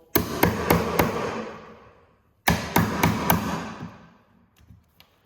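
Chisel struck by a mallet while cutting a wooden half-lap joint on a beam for a batting cage, two bursts of four sharp ringing blows each, close and loud, with a pause between.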